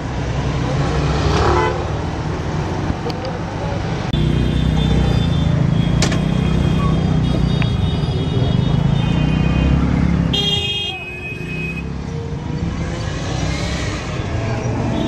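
Busy New Delhi street traffic: a dense, steady roar of cars and motorbikes close by, with repeated short horn toots cutting through across the whole stretch.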